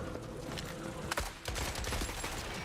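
Rapid gunfire rattling through a battlefield in The Forever Winter video game, a steady burst of muffled shots with one sharp, louder crack standing out partway through.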